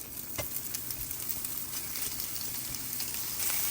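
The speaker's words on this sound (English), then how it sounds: "I'm just going to sear them off," Steady crackling sizzle of sausages searing in a hot pan, close and continuous, with occasional faint pops and scrapes.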